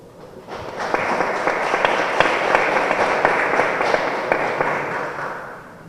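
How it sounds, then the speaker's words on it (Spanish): Conference audience applauding to welcome a speaker, a dense, steady round of clapping that swells in quickly and holds at an even level before tapering slightly, with individual claps standing out sharply near the front. "Y la recibimos con un fuerte aplauso"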